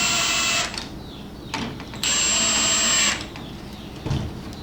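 Power drill driving fasteners into wooden trellis boards: two loud, steady whirring bursts of about a second each, with quieter handling noise and short clunks between them.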